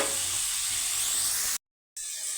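Food sautéing with salt in a pan for a cowpea curry makes a steady, close hiss and sizzle that cuts out briefly near the end and then resumes, with no voices.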